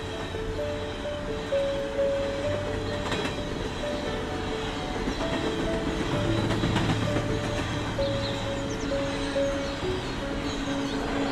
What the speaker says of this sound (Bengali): ট্রেনগুলো কোথায় যায় রে?